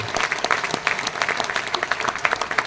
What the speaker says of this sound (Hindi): एक बार जोरदार तालियों से उनका भी स्वागत करते हैं